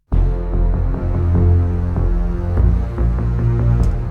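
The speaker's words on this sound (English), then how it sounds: "So this is the full, complete bass layering in the chorus." Layered orchestral bass and synth bass in a chorus, a massive low-end throb with rhythmic pulses and accented hits, loud and continuous with no talking.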